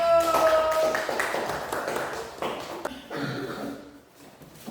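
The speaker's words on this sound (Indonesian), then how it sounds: "Ya, tepuk tangan untuk kelompok 1." Elementary classroom of fourth graders clapping for a presenting group, a scattered patter of many small hands at moderate loudness that tapers off, with some voices mixed in.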